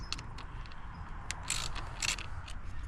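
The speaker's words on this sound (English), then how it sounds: "I'm going to take these 3 screws out in order to pull these tabs off of here." Ratchet wrench loosening screws on a Sea-Doo Spark personal watercraft, a close, steady mechanical clicking and scraping with a few brighter metallic bursts, no talk.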